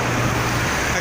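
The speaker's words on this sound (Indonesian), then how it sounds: "Bisa dilihat di belakang saya, sangat ramai sekali sama kendaraan truk" Dense, steady roar of heavy truck traffic on the Jakarta–Cikampek toll road, with a low engine rumble under continuous road noise and wind on a drizzly day.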